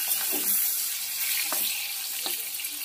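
Summer vegetables with potatoes frying in a pan and being stirred, a steady close sizzle with a few soft scraping strokes from the spoon, alone without talk.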